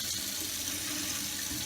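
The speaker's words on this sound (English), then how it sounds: "So now we're gonna go to the sink, rinse it out, let the water flow into the bottom part of the egg" Steady tap water runs into a kitchen sink, rinsing out a hollowed eggshell being prepared for a Ukrainian Easter egg; a continuous close hiss and splash with no pauses.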